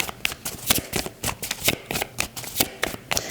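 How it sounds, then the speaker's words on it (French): Tarot cards are shuffled and drawn by hand in a quick series of close, crisp riffling bursts at a steady, uneven rhythm, with no talking. "je vais tirer quelques cartes"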